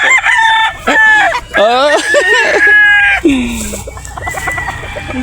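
Several young roosters (stags) crow loudly and close by, with drawn-out crows overlapping and clucking in between; a voice speaks briefly among the birds.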